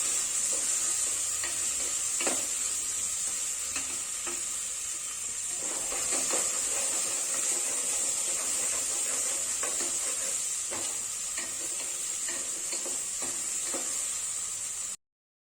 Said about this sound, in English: Let all ingredients cook properly until tomatoes become soft.